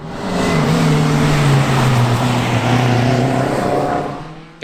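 A Renault 5 GT Turbo rally car at a winter rally stage at Nutts Corner roars past, its loud engine note swelling and dropping in pitch as it goes by, then fading away.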